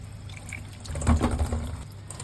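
Water trickles and splashes steadily from the cleared holes of a dishwasher spray arm, close and fairly soft, swelling briefly midway.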